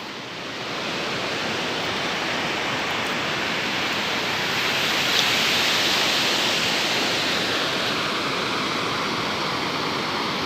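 A rain-swollen river in Iran's Kolchap Valley, dry only hours earlier, rushing past in a dense, unbroken roar of floodwater, loud and steady from start to finish.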